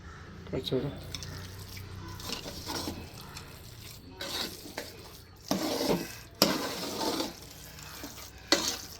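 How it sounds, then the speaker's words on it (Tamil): Cooked bisi bele bath, the Karnataka rice and lentil dish, is mashed and mixed in a pot with a series of wet, squelching stirring scrapes, close up, with a few louder knocks and talk faintly underneath. "நல்லா குழச்சி விடணும். நல்லா குழச்சி விடு."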